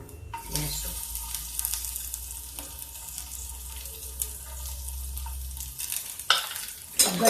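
Garlic and cumin seeds sizzle in hot oil in a home kitchen, with a steady frying hiss broken by several sharp stirring scrapes and clinks and a louder clatter near the end.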